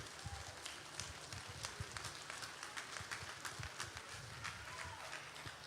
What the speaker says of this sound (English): Please keep clapping until he gets here